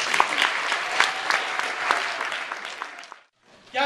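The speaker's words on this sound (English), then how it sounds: "Give them all a round of applause." Warm audience applause at the close of a children's balloon show in Dallas, a steady burst of many clapping hands that fades out abruptly before a brief sound returns at the end.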